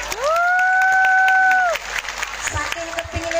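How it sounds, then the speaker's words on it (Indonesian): Crowd applause and cheering at an Islamic sermon gathering, heard under a loud sustained whistle-like tone for the first part, then continuing with scattered voices. "tepuk tangan dulu Malik"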